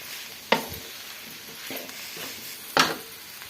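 A spoon stirring sheep blood fry in a pan, with a few sharp scraping clinks against the pan over a faint, steady sizzle, with no talking.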